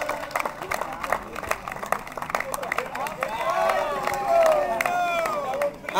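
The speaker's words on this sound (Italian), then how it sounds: "Un applauso agli hooligans." Applause and cheering from a crowd at a memorial tournament prize ceremony, clapping mixed with voices and whistles that swell in the second half.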